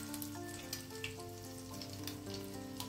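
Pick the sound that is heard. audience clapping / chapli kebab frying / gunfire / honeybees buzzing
chapli kebab frying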